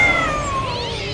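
A cat inside a bungalow lets out a single drawn-out meow, loud and close, sliding downward in pitch before a second wavering cry trails off. No speech.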